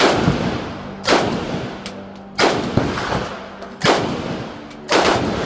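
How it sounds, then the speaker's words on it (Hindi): Real military rifles and machine guns fire at a shooting range at the end of a Vietnam war tunnel tour. Four loud bursts of rapid automatic fire come at regular intervals, each with a sharp onset, over a steady outdoor background. "यहाँ आप शूट कर सकते हो AK-47, M16, M30 machine gun जैसी असली वॉर वेपन से।"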